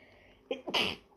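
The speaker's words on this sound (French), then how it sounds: "Attendez, je vais éternuer." A single close sneeze, a sharp intake followed by a bright burst, heard alone in a quiet room.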